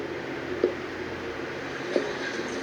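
A Seoul Line 4 subway train runs with a steady, loud rumbling roar, broken by two sharp clacks from the track.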